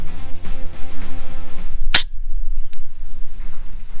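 An FX Impact M3 air rifle fires a single sharp, loud crack at a pigeon during long-range hunting. The shot cuts through steady background engine-like hum, followed by a faint brief knock.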